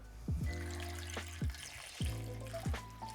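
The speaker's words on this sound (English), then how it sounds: "we salt and we cover it with water" Water splashes and glugs into a pot of salted potatoes in several uneven pours, close and moderately loud, with hollow drips between.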